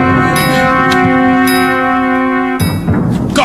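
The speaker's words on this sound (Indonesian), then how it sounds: "Gong!" A gong is struck and rings with a rich, sustained tone and strong overtones. It sounds at a royal court as a beheading is announced. A second strike follows near the end, loud and close.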